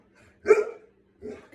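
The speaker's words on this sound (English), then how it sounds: "That's my dog." A pet dog gives one sharp, close bark followed moments later by a softer, shorter second bark, with quiet between them.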